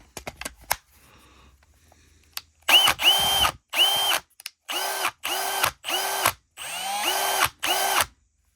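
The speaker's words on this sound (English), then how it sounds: "So that's my M18 drill." A Milwaukee M18 cordless drill whirs in a series of short bursts, each revving up and stopping, about eight pulses with brief pauses between, close and loud.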